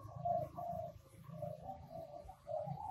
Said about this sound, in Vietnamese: Này là chim mái nha các bạn nha.